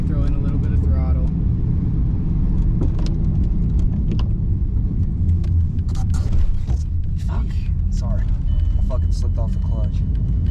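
Inside an older beater car with a manual transmission, the engine hums low and steady as a little throttle is added while the driver learns clutch control, with people talking over it throughout.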